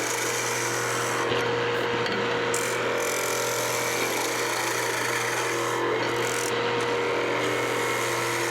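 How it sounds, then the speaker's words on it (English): A skew chisel cutting a spinning wood blank on a lathe gives a continuous rasping, scraping hiss over the motor's steady hum, loud and close, with brief pauses as the tool lifts off. "Just show you guys a couple of other features with the skew in wood turning."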